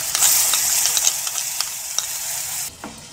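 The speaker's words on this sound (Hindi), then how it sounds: "ये देखिए हमारा मसाला भून गया है" Spice masala with asafoetida fries in oil in a pan while a spoon scrapes and stirs it, giving a bright continuous sizzle with scraping strokes and a few knocks before it drops away near the end.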